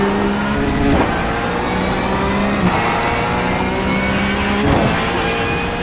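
A Porsche 911 GT3 Cup engine howls at full speed in iRacing on the Nürburgring, a loud, sustained high-revving drone with brief dips and shifts in pitch every couple of seconds and no speech.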